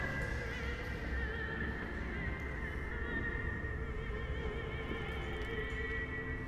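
A pig creature in the horror game Amnesia: A Machine for Pigs gives a drawn-out, droning squeal with steady tonal harmonics over a dense low rumble, continuous and fairly loud throughout, with no talking.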